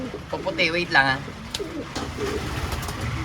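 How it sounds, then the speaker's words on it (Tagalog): Pigeons coo during a rainy training session, soft throaty calls heard near but fairly quiet, partly under someone speaking briefly at the start, with steady rain-like background noise throughout. "Ito nyo naman mga ibon natin mga abel oh."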